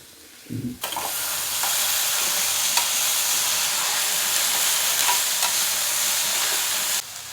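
Onions and vegetables for a Tamil cluster bean poriyal sauté in a pan, giving a loud, continuous sizzle that starts after a brief clatter and carries on steadily to the end.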